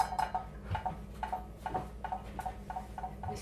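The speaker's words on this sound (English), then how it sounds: "oh look! Copper pans." Copper pans clank and knock together indoors in a string of sharp metallic clinks, roughly two or three per second, moderately close with a ringing edge.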